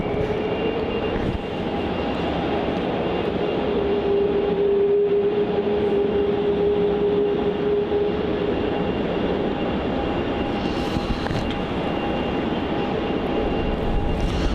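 A Jetstar Airbus A321neo at Melbourne Airport gives a steady, fairly loud jet engine roar with a faint tonal whine, holding constant throughout with no voices.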